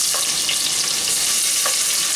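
Garlic and finely chopped onion sizzle steadily in hot oil in a pressure cooker pot, a close, loud, continuous frying hiss with a couple of faint stirring clicks.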